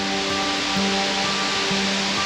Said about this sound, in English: That's a bit of a pretty waterfall.